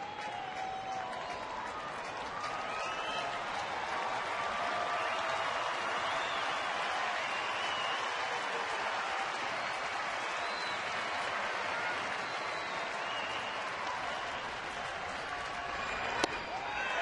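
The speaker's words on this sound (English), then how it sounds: "This crowd hoots and hollers at that." A baseball crowd at a Seattle at Texas game hoots, hollers and claps in a sustained, broad roar that stays steady for the whole stretch, with a faint announcer voice underneath.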